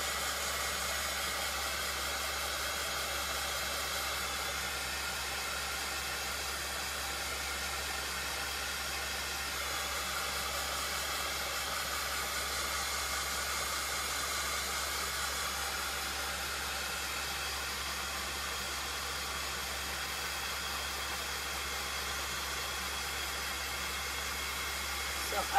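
Hair dryer drying black chalk paint on a small Dollar Tree craft pumpkin, a constant even blowing hiss with a low hum, running uninterrupted and fairly faint throughout.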